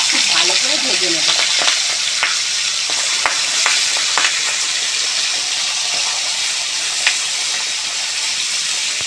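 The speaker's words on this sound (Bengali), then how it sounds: "এবার একে একে মাছগুলো তেলের মধ্যে দিয়ে খুব ভালো করে ভেজে নেব" Pieces of silver carp fry in hot oil in a wok, giving a loud, steady hiss of sizzling with scattered sharp pops and crackles throughout.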